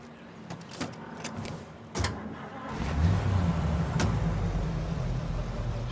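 A car driving in the game Mafia: a steady engine drone with a few clicks and thumps early on, then the motor rises and holds a low, continuous rumble with faint tonal whine, close and unaccompanied by talk.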